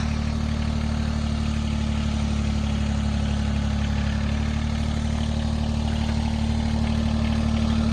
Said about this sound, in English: And this is our new tractor. A little mini tractor, sub tractor.